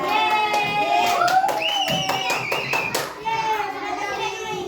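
A group of children clap hands in quick rhythmic bursts while singing and chanting together during a classroom learning activity, loud and close, with a voice continuing after the clapping stops.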